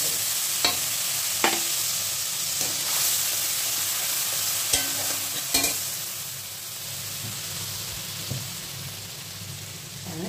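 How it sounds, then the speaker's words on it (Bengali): A spice paste frying with two green chillies gives a continuous close sizzle, broken now and then by sharp clicks and scrapes of stirring against the pan. "কাঁচা লঙ্কা ফোড়ন দিয়ে দিলাম দুটো, তারপর এর মধ্যে যে মশলাটা করে রেখেছিলাম সেটা দিয়ে দেবো"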